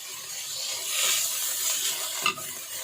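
Chicken frying in a pan with green chillies, soy sauce, crushed red chilli and salt, a steady close sizzle and hiss with stirring scrapes and a brief clatter near the end, no voices.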